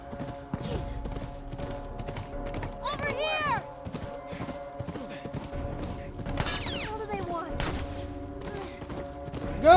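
Galloping horse hoofbeats in a steady clip-clop under busy audio from the video game The Last of Us Part II, with voices and sharp effects layered over the running rhythm.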